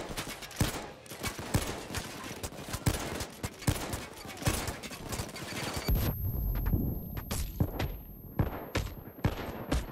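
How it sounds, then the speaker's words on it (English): Dense gunfire from the Payday 2 video game rattles in rapid, overlapping bursts of sharp cracks, loud and close, with a short lull before the shooting picks up again. "It's just the shooting line."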